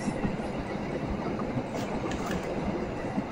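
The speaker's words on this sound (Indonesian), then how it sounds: "Argo Wilis berhenti di stasiun Solo Balapan. Berjalan pelan." The Argo Wilis passenger train, with stainless steel carriages, rolls slowly near Solo Balapan station, giving a low rumbling clatter of wheels on rails with faint squeals, close and steady with no talking.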